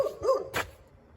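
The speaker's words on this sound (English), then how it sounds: "What are you barking at?" A dog gives a few quick, high yipping barks nearby in rapid succession, followed by a short pause and near quiet.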